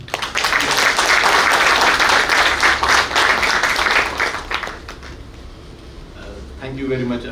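Audience applause at a maritime symposium, loud and close, with many hands clapping densely for about four seconds before it thins out and fades, then a voice starts speaking at the end.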